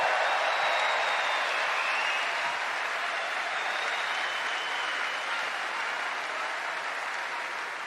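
A large audience at the Invictus Games opening ceremony applauds, a broad, steady wash of clapping and cheering from a big crowd that slowly tapers off over several seconds.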